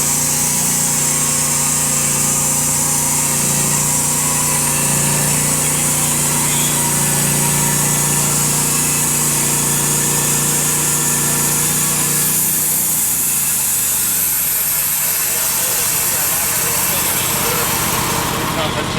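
A 36 V2 chainsaw engine runs loudly and steadily, holding a constant buzzing drone that shifts pitch and tails off near the end, with a voice talking over it.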